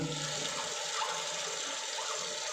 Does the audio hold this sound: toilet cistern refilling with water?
yes